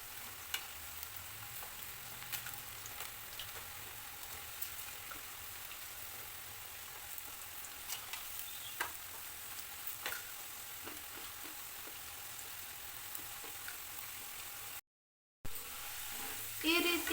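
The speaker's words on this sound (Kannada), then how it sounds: "ಈ ರೀತಿ ಡೀಪ್ ಫ್ರೈ ಆಗಿರೋ ಪೊಟ್ಯಾಟೊನ ಎತ್ಕೊಳ್ಳೋಣ." Potato pieces deep fry in hot oil for crispy honey chilli potatoes, giving a continuous soft, fizzing sizzle throughout, with occasional light ticks and stirring clinks and a brief gap near the end.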